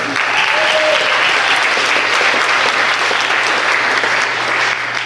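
Sustained applause from an audience at a university team expo presentation, dense steady clapping filling the whole stretch, loud and continuous without letting up.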